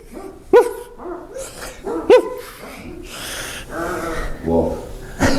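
People in a playful yoga class imitating a puppy, with a few yips and bark-like vocal sounds, gasps and snorts mixed among other voices, close and irregular.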